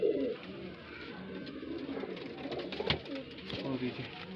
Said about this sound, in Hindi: देखिए दोस्तों बहुत मजबूत कबूतर है आपके सामने।